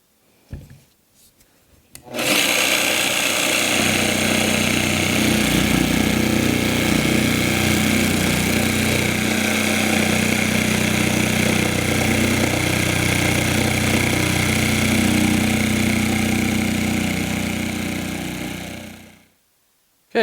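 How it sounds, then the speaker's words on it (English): After a brief pause, a jigsaw starts and cuts steadily through wood around a marked line for a quilting desk insert, its buzzing motor and rasping blade running loud and continuous for about seventeen seconds before stopping. "I'm going to use the jigsaw and just cut around the inside of my line."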